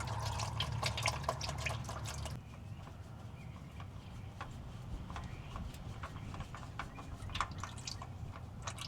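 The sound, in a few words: oil draining from loosened GMC Yukon oil filter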